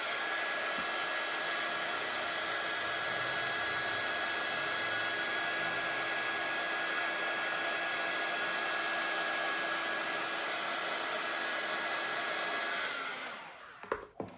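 A handheld heat tool blows continuously over sprayed ink with yellow oxide mixed in on craft paper, a loud, steady whirring roar with a faint whine that runs unbroken for about thirteen seconds before cutting off abruptly.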